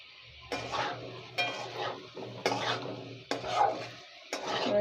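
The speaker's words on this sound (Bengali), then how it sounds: "এবার এটাকে একটু নেড়ে নেবো যাতে হলুদের গন্ধটা চলে যায়।" Fried food with turmeric is stirred in a pan: about five distinct scraping strokes of a spoon against metal, repeating every second or so over a soft sizzle, close and moderately loud.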